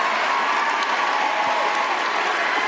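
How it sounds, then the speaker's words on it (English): A packed crowd at AMFest gives a sustained standing ovation, with dense, steady applause and scattered cheers filling the space without a break. "she is getting a ton of standing ovations."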